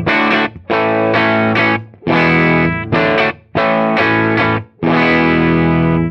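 Loud distorted electric guitar through a fixed-bias valve amplifier with negative feedback, playing chords in bursts with short gaps between phrases, the tone tight and compressed.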